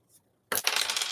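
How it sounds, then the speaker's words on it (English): Dice drop and rattle across a hard surface in one quick burst of clicks and tumbles, close and clear after a brief quiet tap. "rolling the dice"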